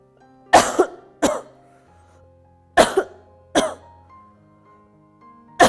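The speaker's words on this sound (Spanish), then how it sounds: "Voy a cortar acá porque voy a toser." Several harsh coughs from a dry throat come close to the microphone in pairs, separated by short pauses, with a faint tone humming underneath.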